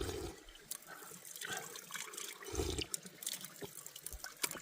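Clear mountain water runs from the Fontaine de Roland spring near the France–Spain border. It makes a quiet, uneven trickle with small splashes and gurgles coming and going, and no one talks.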